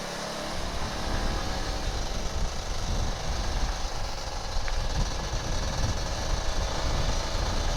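An older Kawasaki Ninja RR 150 motorcycle engine warming up, a steady, close idling rumble with a rough, buzzing texture that holds level throughout, with no talk.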